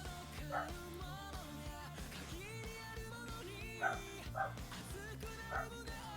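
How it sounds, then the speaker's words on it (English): A dog barks and yips excitedly in another room, sounding muffled and distant beneath a steady bed of music, with a few louder bursts standing out. "That's my dog just going nuts in the other room."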